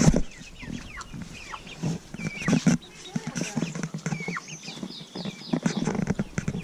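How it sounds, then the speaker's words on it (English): Chickens with large and tiny chicks in a backyard coop, high chirping peeps and soft clucks scattered throughout, close by, under and between a person talking. "But anyway, there are the chicks."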